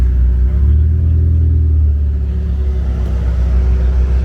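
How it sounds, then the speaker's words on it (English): A Ferrari F8 pulls up along exotic row at an outdoor car show, its engine a loud, deep, steady rumble that stays close throughout. "We got a Ferrari pulling up an F8."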